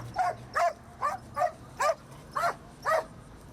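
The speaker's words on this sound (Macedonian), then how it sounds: "а вклучено беше и полициско куче." A police dog on a border patrol checking vehicles barks in a string of seven sharp, evenly spaced barks, fairly close and clear against a quiet background.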